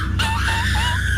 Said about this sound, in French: festival de hurlements